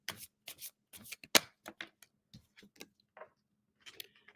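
A deck of angel cards is shuffled and pulled, making quick, quiet papery riffles and soft flicks in short, separate bursts close by.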